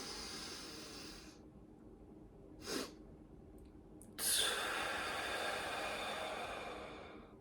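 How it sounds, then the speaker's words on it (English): Breathing exercise for sleep: a long deep inhale through the nose, a brief pause, then a sharp extra inhale followed by a slow, drawn-out exhale, close and alone. "I did one long inhale until I feel like I couldn't anymore."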